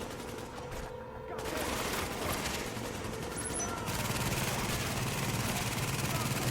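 A deployed turret in The Division fires a sustained, steady burst of rapid shots, loud and continuous, with a player's voice talking over parts of it.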